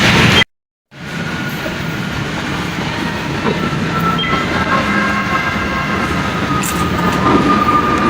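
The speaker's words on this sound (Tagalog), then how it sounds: "Ayun, may tren." An MRT metro train rumbles steadily alongside a platform, wheels clacking and a faint squeal rising, after a brief silent gap at the start.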